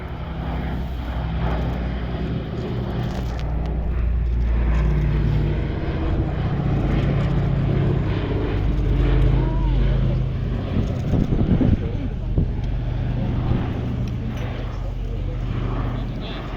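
Boeing B-17 Flying Fortress "Sally B" flying at the East Kirkby airshow, a steady deep droning of its four piston engines heard from a distance, with wind buffeting the microphone throughout.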